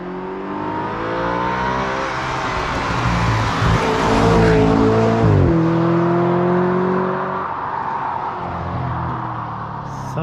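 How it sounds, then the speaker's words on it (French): A 2010 Audi RS5 with a stage 1 tune drives past outdoors, its engine rising in pitch as it accelerates, peaking loudly as it passes close by, then shifting down and fading into the distance with a rumbling tail. "On va vous faire des petits passages et écouter un peu ce moteur."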